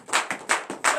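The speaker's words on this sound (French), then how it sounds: "Donnez l'acclamation à l'Éternel." A short burst of hand claps from a congregation at a morning prayer service, about five sharp claps in a quick, uneven rhythm, fairly close.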